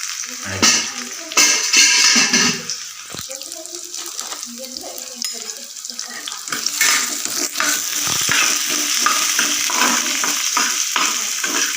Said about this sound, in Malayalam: ഉള്ളി ഒന്ന് വയറ്റിയെടുക്കണം അതിൻ്റെ കൂടെ നമുക്കൊന്ന് കുറച്ച് ഉണക്കമുളക് ഇടാം പിന്നെ കരിവേപ്പില പിന്നെ പുളിയും കൂടെ ഒന്ന് ഒന്ന് വഴറ്റിയെടുക്കണം